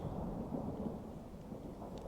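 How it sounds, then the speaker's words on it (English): Thunderstorm in the strategy game Grand Tactician, a steady loud rumbling wash of thunder and heavy rain with no break, close and enveloping throughout. "I don't know why that storm was so loud."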